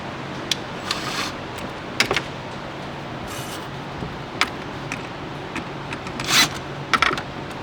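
Hose clamp worked onto a hose on a race car in a garage, heard as rubbing, scraping and metallic fiddling at close range, with a few sharper clicks and a rattling burst toward the end.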